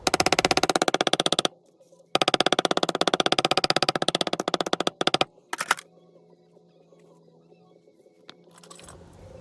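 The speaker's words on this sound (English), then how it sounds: "Once the contact cement gets tacky, I'll stick them together and then tap them down to just get a better seal." Rapid, close mallet tapping on glued leather pieces for a coin wallet, fast even strikes in two long bursts, then a few scattered taps before quiet.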